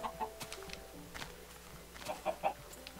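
Minecraft chickens cluck in short, faint bursts scattered across the scene, soft game sound effects with no talk over them.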